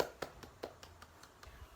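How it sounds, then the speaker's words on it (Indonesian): Schoolchildren clap in a classroom, a handful of sharp separate claps spaced roughly evenly at moderate loudness, with no voices over them. "tepuk tangan buat kita semua"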